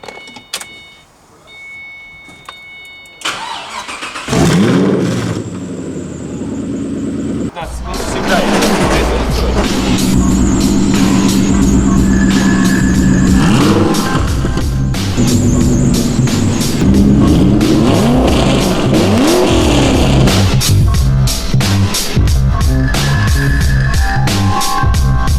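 A Ford GT starts up in a garage with a sharp whir before the engine catches, then idles and blips into revs in rising and falling sweeps as people talk close by.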